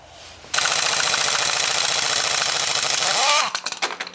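Pulley puller cranked down to pull the pulley off a power steering pump, a loud rapid rattling burst like an impact tool running for about three seconds, then sputtering out.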